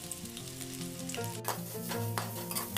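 Onions hit hot oil in a pan with garlic and green chilies, crackling and sizzling steadily up close with a brief spatula scrape partway through.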